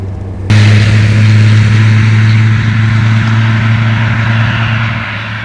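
A 1933 Lagonda M45 prototype engine bursts into a loud, steady rev that holds its droning pitch for several seconds before easing off near the end, heard close up with no talk.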